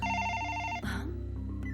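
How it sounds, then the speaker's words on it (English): A telephone ringing in an anime episode: a steady electronic trill that rings for under a second and then cuts off into softer background tones. "Uh-oh, it's the phone."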